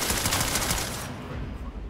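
Gunfire in the video game PlanetSide Arena comes as a dense, loud burst of rapid automatic shots lasting about two seconds, with no voices over it.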